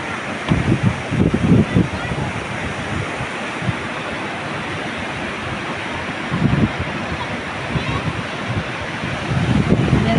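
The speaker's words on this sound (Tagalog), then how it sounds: "ang lakas ng tubig guys" Strong floodwater rushes beneath a bridge, a loud, steady roar of surging water with wind buffeting the microphone and a few brief voices over it.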